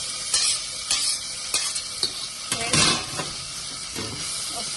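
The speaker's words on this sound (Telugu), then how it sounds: "కొత్తిమీర, పుదీనా కొంచెం ఇట్లా వేగినాక" Mint and coriander leaves frying in a pan after garlic paste, with sharp stirring scrapes and clinks over a steady close sizzle, several distinct strokes across the stretch.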